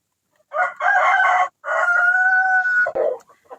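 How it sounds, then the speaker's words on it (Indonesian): An Elba breed rooster crows loudly and close by, a long drawn-out call followed by a short clucking note. "Dan ini adalah indukan ayam Elba saya yang sudah bertelur."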